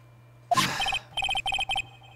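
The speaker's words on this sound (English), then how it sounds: "Hey, Nick, your cell phone's ringing." A cell phone rings in the Phoenix Wright: Ace Attorney: Trials and Tribulations video game: a short rising chime, then repeated bursts of quick electronic trills, clear and close over a low steady hum, with no talking.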